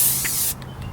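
A short, loud hiss of Plasti Dip aerosol spray being applied to a Honda Prelude wheel, cutting off abruptly halfway through, followed by faint mechanical creaks.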